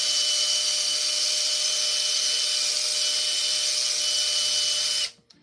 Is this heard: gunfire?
no